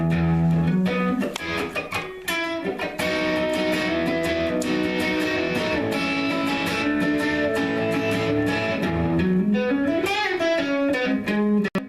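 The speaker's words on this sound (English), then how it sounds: "put a little distortion, I'll play the guitar." Distorted electric guitar playing chords and melodic runs continuously, loud and sustained with thick, fuzzy harmonics.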